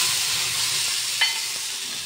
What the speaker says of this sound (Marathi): याला तडका दिला